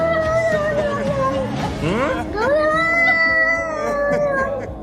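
People imitate cats with drawn-out, wavering meows and yowls, several voices overlapping in rising and falling cries, loud and close.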